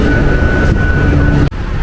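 A train carriage rides along with a loud, steady rumbling roar and a faint tonal whine, broken near the end by a brief dropout.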